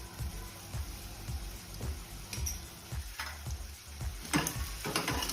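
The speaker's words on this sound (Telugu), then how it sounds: "ఆనియన్స్ బాగా ఫ్రై అయ్యే వరకు కలుపుకుంటూ ఫ్రై చేసుకోవాలి." Chopped onions with curry leaves, turmeric and salt fry and get stirred in a pan, a soft steady sizzle with repeated light scrapes and taps of the spoon at a quiet level.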